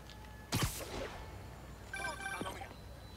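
A phone ringing in the Spider-Man video game, a short electronic ring with a sharp burst at first, then a brief warbling tone, soft and close under quiet game audio.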